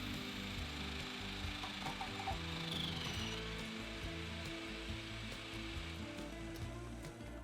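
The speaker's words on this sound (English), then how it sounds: "So all we're gonna do is just chop it up in here in my food processor, and we're just gonna slice it up." A food processor chopping fresh ginger, its motor grinding loudly and steadily with rhythmic chopping pulses throughout, close and continuous.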